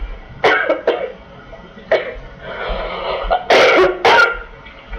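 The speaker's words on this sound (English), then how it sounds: "Oh, I'm coughing." A person coughs repeatedly up close, a series of harsh, uneven coughs and throat clears over a few seconds.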